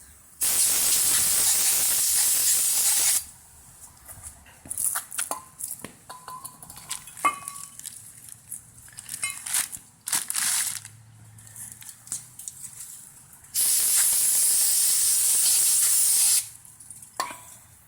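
Two long, loud bursts of aerosol spray hiss close by onto front brake pads of a 2012 Ford Focus, separated by quieter clinks and handling noises between them.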